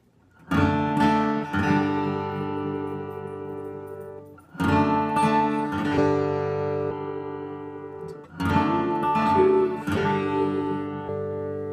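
An electric guitar plays the chord riff of a rock song in three ringing strummed phrases separated by brief gaps, close and clear, with no talking.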